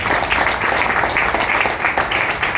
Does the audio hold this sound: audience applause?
yes